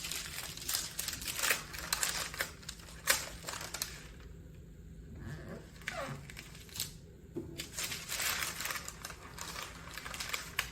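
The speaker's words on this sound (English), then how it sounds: "you can start removing your parchment paper." Parchment paper is peeled off a Cricut-cut faux stained-glass frame design, producing repeated crisp crinkling and crackling bursts close up, with a quieter pause midway before the rustling resumes.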